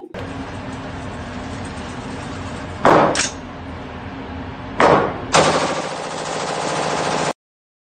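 Gunfire at a shooting session, with two sharp loud bursts around the three- and five-second marks followed by a sustained rapid roar like a stream of automatic fire, over a steady noisy background before cutting off abruptly.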